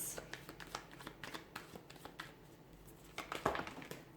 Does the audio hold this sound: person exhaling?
no